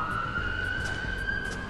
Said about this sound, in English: there's a bunch of sirens in the background yet again